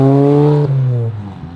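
A car engine revs hard at a car show, a loud rising roar that holds, then drops off and fades within about a second and a half.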